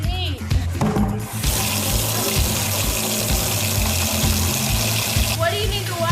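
Tap water runs steadily into a container for mixing plaster and sand, a loud continuous gush that lasts several seconds and is framed by brief talking at the start and end.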